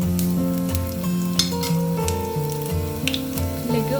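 Chopped garlic and fenugreek seeds sizzle steadily in hot oil, a constant close hiss with soft stirring, while music plays underneath throughout.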